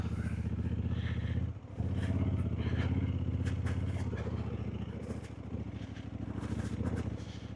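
A motorcycle climbs a slippery slope at full throttle, its engine roaring loud and steady with a brief dip in power partway through, then straining on under faint voices.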